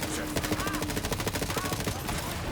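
Rapid full-auto assault rifle fire in Borderlands 3, a fast rhythmic burst of close, loud shots lasting about two seconds with game effects over it.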